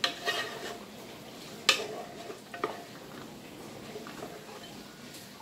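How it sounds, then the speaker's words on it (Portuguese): Tomato and seasoning sautéing in a pan for beef stroganoff, a soft steady sizzle broken by a few sharp clinks and scrapes of a utensil against the pan. "Agora eu vou só deixar o tomate refogar"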